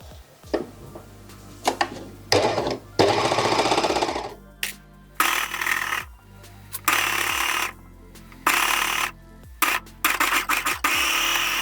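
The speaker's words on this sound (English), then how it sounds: "So I have the 4 layers and I can go to my overlocker" An overlocker stitching through four layers of fabric runs in short, loud mechanical bursts separated by brief pauses, each burst a rapid clattering whir, close up with no talking.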